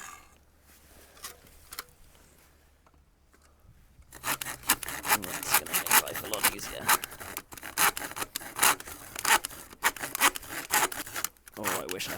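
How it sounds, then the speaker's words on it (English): A hacksaw cuts a paddle tube to length in quick, rough back-and-forth rasping strokes, close and loud after a few quiet seconds of handling. "chop the tube to length"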